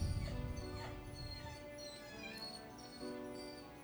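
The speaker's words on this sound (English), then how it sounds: "puppy's in the background whining" A puppy whimpers and whines softly in the background, thin high cries recurring over a few seconds beneath a quiet room tone.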